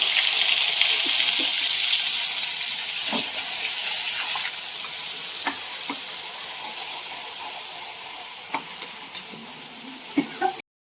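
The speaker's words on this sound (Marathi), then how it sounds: "तर मसाला ना चांगला हा भाजून तेलामध्ये घ्यायचा" Cumin and spice masala roast in hot oil, giving a loud, steady, close sizzle with scattered small pops and crackles throughout before it cuts off abruptly.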